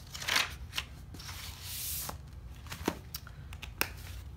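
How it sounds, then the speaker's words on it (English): Scissors make a few quick, crisp snips through a planner sticker, close and fairly quiet, separated by short pauses and faint paper handling. "you just do a quick little cut and it should fix it"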